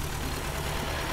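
A tractor engine idles steadily in Farming Simulator 15, a dense low rumbling drone holding even and close throughout, with no voices.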